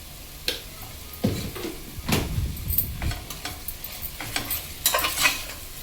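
Gongura leaves, tomato, chilli and onion with a pinch of turmeric are stirred in a hot pan, with scraping strokes and a soft sizzle in uneven bursts, close and alone.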